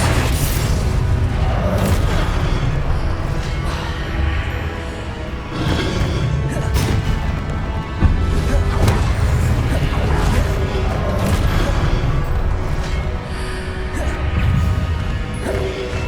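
Spell combat in Hogwarts Legacy with crashing, booming explosions and whacks coming one after another, dense and loud over a constant roar, with a voice calling out over the action.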